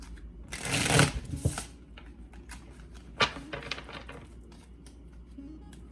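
Tarot cards being shuffled by hand close up, a dense riffling burst followed by a few shorter flutters and taps, then quieter handling.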